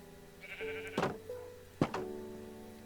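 A sheep in Minecraft with the All The Mods 3 modpack bleats twice, two clear wavering cries close by over a faint low background.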